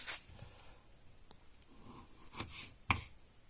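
A knife slices salted pork fat (salo) into pieces outdoors in the woods, a handful of soft, scattered cuts that are faint and close.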